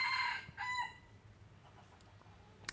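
A rooster crows loudly and close by in one long, strident call, followed by a shorter second burst, then quiet farmyard background with a faint click.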